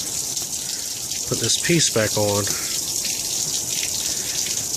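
Water gushes in a steady, loud hiss from a pipe fitting that has broken off a building wall, while someone briefly talks over the rush.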